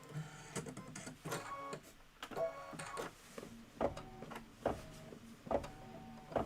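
An embroidery machine stitches a Kimberbell table topper, giving a quiet, rhythmic series of mechanical clicks and whirring pulses repeating at a steady pace.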